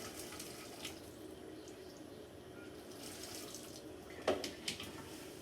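Pasta water strained over a kitchen sink while making spaghetti and meatballs: a faint, steady rush of water runs throughout, with a brief louder splash and clatter near the end.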